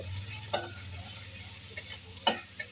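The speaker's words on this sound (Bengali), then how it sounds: "এবার আমি মশলাগুলোকে ভালো মতো নেড়ে নিব একসাথে কষিয়ে নিব" Spices for khichuri are stirred and fried in a pan: a few sharp scrapes and clicks of a utensil against the pan over a low, faint hum.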